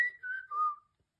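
A person whistles a short gliding tune, imitating a sound from a children's book. It is brief and clear, falling slightly in pitch and heard alone.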